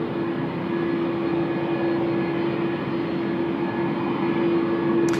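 An airliner departing runway 16R at Tokyo Haneda, its engines a steady loud roar with a constant droning tone, heard from the ground and unchanging throughout.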